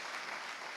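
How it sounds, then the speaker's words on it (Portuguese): A church congregation claps together for a short moment during a service, a dense, steady wash of applause from many hands filling the room with no voices standing out. "Aplaudir Jesus pela vida dele."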